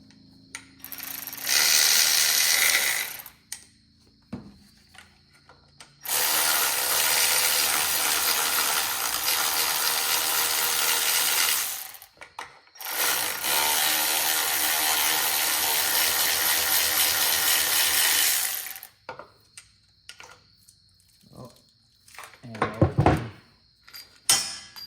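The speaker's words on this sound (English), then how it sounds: "so I can just pull the bolts out" A hand ratchet works loose the throttle-body bolts on a drift car in a garage, with long bursts of rapid clicking separated by pauses and ending in a few scattered metallic clunks, with no talking.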